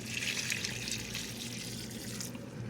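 5% vinegar poured into a pot of corn relish: a steady close liquid pour and splash that runs continuously for a couple of seconds, then stops abruptly.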